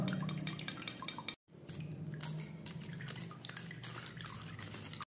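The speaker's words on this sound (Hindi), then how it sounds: "इस तरीके से इसको हम छान लेंगे" Fresh orange juice is strained into a kitchen vessel with steady liquid trickling and dripping. Light clinks of utensil on dish come and go, with one brief gap in the sound.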